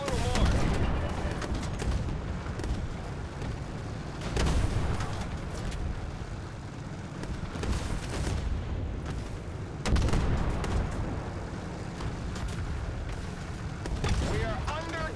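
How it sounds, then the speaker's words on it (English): Tank cannon fire and artillery from a Tank Force PvP video game battle, with repeated heavy booms roughly every few seconds over a dense, continuous rumble of combat noise. "We are under gunfire."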